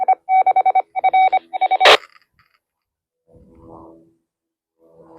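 Radio repeater answers a transmission from a Radioddity RD-371 tri-band handheld in a park with a quick burst of short DTMF-like tone beeps and a squelch burst, followed by faint hiss and silence.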